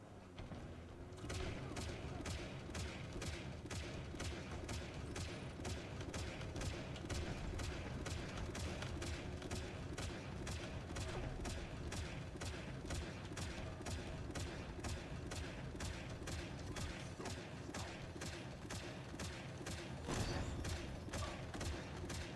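Turret gunfire in Halo Infinite during a heavies match, a continuous rapid stream of evenly spaced shots lasting many seconds, loud and mechanical, with faint game ambience beneath.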